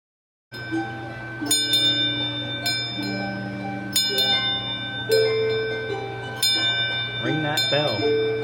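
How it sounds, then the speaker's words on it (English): A bell rings out repeatedly at the Wanamaker light show, several bright struck tones sustaining and overlapping over a steady background drone, with occasional voices in the crowd. "Ring that bell."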